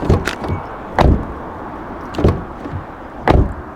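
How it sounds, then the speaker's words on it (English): A 2017 Honda Civic door shuts solidly four times, each a dull thud with a short rattle, spaced about a second apart against a quiet background. "So a nice solid door closing sound there."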